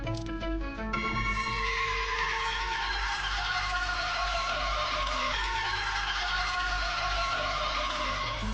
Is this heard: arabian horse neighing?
yes